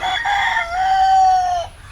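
A black-and-white rooster crows once, loud and close, a drawn-out cock-a-doodle-doo lasting nearly two seconds before cutting off.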